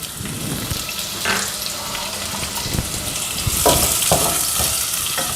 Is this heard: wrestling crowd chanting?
no